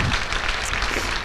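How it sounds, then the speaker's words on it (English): An audience at a district school bands night gives a round of applause for two band directors: dense, steady clapping that fills the whole short stretch with no voices on top. "Can we have a nice round of applause for Ms. Hengeli and Mrs. Racine?"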